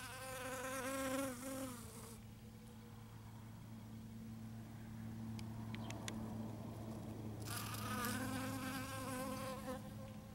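Bees buzz around flying saucer cactus flowers, their close, droning whine fading away in the middle and then returning loudly over a quiet outdoor background.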